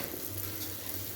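Pepper powder is stirred into a hot pan of frying food, heard as a soft continuous sizzle with a low hum beneath it over a brief stretch, with no voices.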